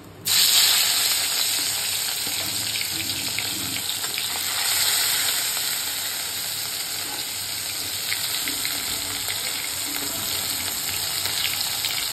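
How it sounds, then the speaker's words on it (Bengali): Pieces of rohu fish rubbed with salt and turmeric sizzle hard in hot oil, a loud, steady hiss of frying that carries on without a break and with no voices. "রুই মাছটা করবো আজকে। তেল গরম হয়ে গেছে, মাছগুলোকে ভেজে নিই।"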